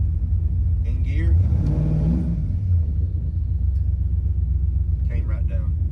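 A car engine fitted with Holley EFI idles in gear with the AC off, giving a steady, deep low rumble throughout, with brief voices heard over it.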